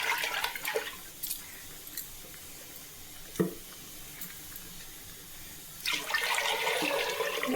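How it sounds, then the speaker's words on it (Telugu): Soaked lentils are washed and rubbed by hand in water, giving close sloshing and splashing that swells at the start and again near the end, with quieter trickling between. "ఇలా బాగా కడిగి బాగా నలిపి బాగా ఇట్లా కడిగేసి"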